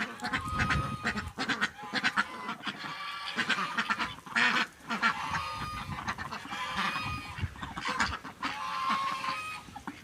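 Geese honk and cackle repeatedly at close range as they walk through a village, a busy overlapping chorus of calls with brief pauses, over some rustling movement.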